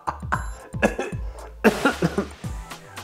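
A series of short, sharp coughs comes in quick bursts, close and fairly loud, with brief pauses between them.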